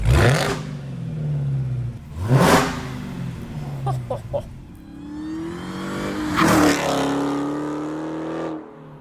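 A supercharged 2016 Dodge Challenger Hellcat engine revs hard several times, each loud roar climbing then falling back to a rumbling idle between bursts.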